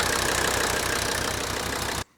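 An engine runs with its oil filler cap loosened for a blow-by check, giving a loud, close, steady rumble with rhythmic pulsing before it cuts off abruptly.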